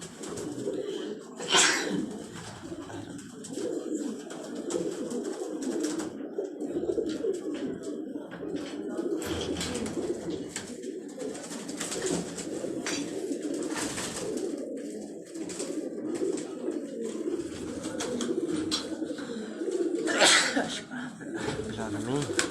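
Pigeons coo softly in low, repeated throaty calls while someone talks over them at close range.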